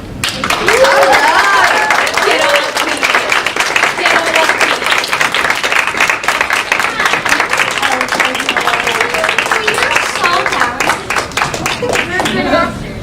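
Audience applause for the Outstanding Acting award winner at a one-day theatre event, a steady dense wash of clapping sustained for the full stretch with crowd noise and some voices mixed in.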